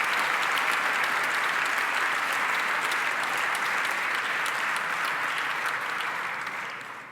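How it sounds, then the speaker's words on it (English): A large audience at the 2020 State of the Commonwealth address breaks into dense, sustained applause that stays loud and even for several seconds before starting to fade at the end. "Give them a round of applause."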